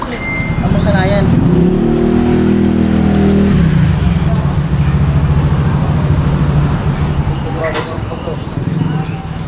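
A motorcycle engine runs loud and steady nearby, rumbling throughout with a brief rise in revs, while voices talk over it.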